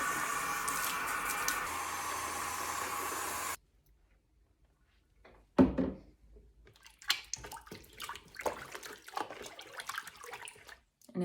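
Cold water pours steadily over a blonde human hair wig in a bucket, then stops briefly before bursts of sloshing and splashing as the hair is rinsed, close and fairly quiet.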